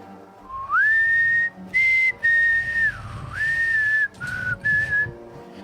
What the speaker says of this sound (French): tu te rappelles aussi une espèce de mélodie qui siffle